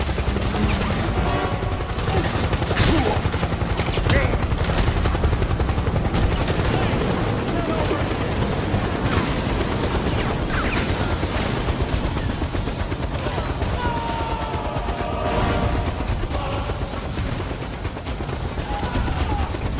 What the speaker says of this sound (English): He tried to shoot down the helicopter